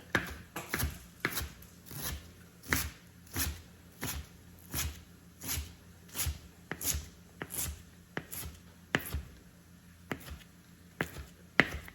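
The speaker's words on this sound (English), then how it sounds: "So then I just fold it over and then I just chop it." A knife chops fresh dill, folded over on a board, in a steady series of crisp close taps repeated about once a second, with no talking.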